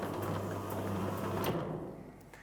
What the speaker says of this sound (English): Then close the door by approximately 300mm.